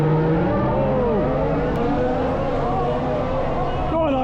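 Formula 1 cars pulling away at the start of the Australian Grand Prix, a dense steady engine roar with rising and falling pitch, heard from the grandstand amid crowd noise.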